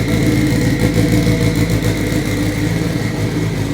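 Engine of an all-wheel drive Honda Civic Si EM1 tuned past 1000 whp, running loud and steady on a dyno with a constant, droning roar and no talk.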